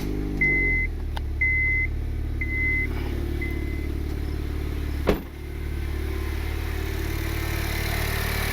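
A Honda Civic R18 turbo engine idles steadily with a low, even hum, a few faint beeps early on and one sharp click midway.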